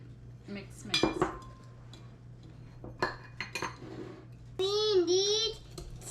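Utensils clinking and scraping against a bowl as eggs are mixed into banana muffin batter, with scattered knocks, a voice speaking over it, and a steady low hum underneath.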